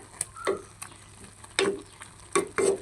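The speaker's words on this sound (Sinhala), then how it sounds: "පොඩ්ඩක් හැඳි ගාලා" A few distinct scrapes of a spoon stirring food in a pot, spaced irregularly over a quiet background with faint sizzling.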